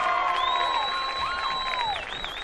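A crowd at a high school football game applauds and cheers for the homecoming king in a steady, loud outdoor roar, with whistles ringing over the top.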